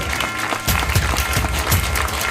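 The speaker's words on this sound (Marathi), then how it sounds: "एकदा जोरदार टाळ्या लेकरांनो." A crowd claps for an award honour at a ceremony, a dense, loud, continuous patter of hands with no talk, sustained throughout the short stretch.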